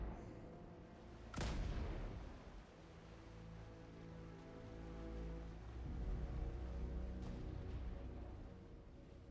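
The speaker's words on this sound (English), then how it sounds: "We got over 100 more volleys of mortar to get through." Mortar volleys firing in a video game: a sharp, loud boom near the start followed by a long rumbling tail, then a second, fainter crack later amid continuous low rumble.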